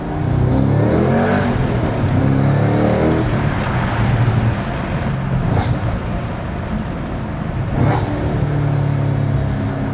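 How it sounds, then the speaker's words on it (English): A Cadillac CT5-V Blackwing's supercharged V8 roars through its stock exhaust, a loud, deep, sustained rumble with rising revs and a couple of sharp pops and crackles, heard from inside the car. "Oh my God, that's stock exhaust. Long live the Cadillac supercharged V8"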